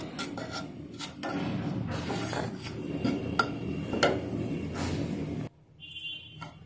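Raw maize flour being roasted in a pan on a low flame for a mixed spinach, bathua and mustard greens saag, with steady scraping and rasping stirring strokes against the pan, then a sudden drop to quiet.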